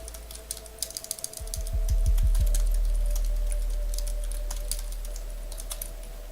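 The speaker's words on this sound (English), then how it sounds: "You're going to enter your account name," Rapid clicks of typing on a computer keyboard, close and steady, with a low hum building underneath partway through.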